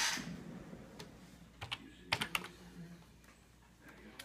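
Typing on the keyboard of a homebrew Altair 8800micro clone computer, a handful of sparse, crisp key clicks with a quick cluster in the middle, close up in a quiet room.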